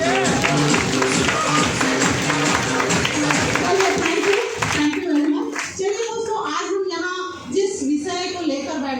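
Dense applause from an audience at a large training meeting, loud and steady for about five seconds, then thinning out as a speaker's voice takes over.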